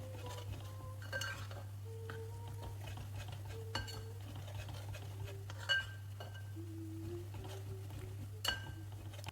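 A spoon stirs a lemon and date pickle mixture in a pan, giving faint scattered scrapes and light metallic clinks over a steady low hum.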